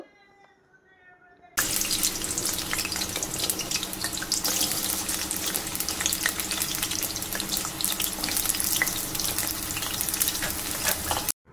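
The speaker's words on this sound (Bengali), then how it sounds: "ওর মধ্যে কিছুটা তেল দিয়ে দিলাম সাদা তেল এবার আমি আলুগুলো সব ভাজা করে নেব" Potatoes hit hot white oil in a wok on a stove, bursting into a loud, steady frying hiss that continues unbroken after a brief quiet start.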